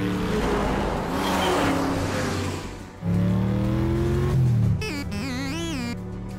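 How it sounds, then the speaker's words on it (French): The cartoon robot car Bumblebee drives and accelerates: a loud, close engine roar that rises in pitch, briefly dips, then surges again before giving way to a wavering, whistling electronic sound at the end. "tu es très agréable à conduire, Bumblebee. Puissant, rapide et souple"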